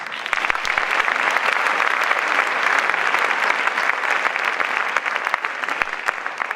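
Sustained, dense audience applause at a film festival closing ceremony, loud and even throughout with crisp individual claps standing out.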